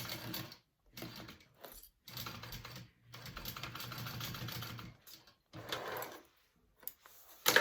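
Sewing machine stitching a crossbody bag, running in bursts of steady mechanical whirring with brief stops between runs, close and moderately quiet.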